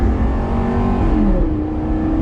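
A Lamborghini Gallardo's engine drones steadily at close range while driving, a continuous loud mechanical roar with a slight dip in pitch partway through.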